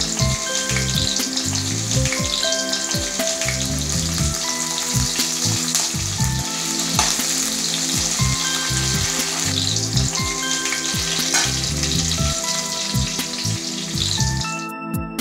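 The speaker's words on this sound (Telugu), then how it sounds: "చూపించే విధంగా వేగనివ్వాలి." Mustard seeds, chopped onion and green chillies fry in hot oil for a village-style drumstick fry, a steady close sizzle with rapid crackles and pops throughout, alone without voices.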